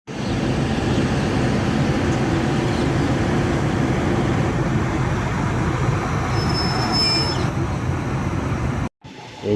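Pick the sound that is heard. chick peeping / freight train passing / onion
freight train passing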